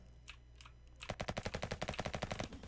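A fully automatic weapon in the Roblox shooter Modern Warfare fires one rapid, evenly spaced burst of about fifteen loud shots, preceded by a second of quieter ambience with faint clicks.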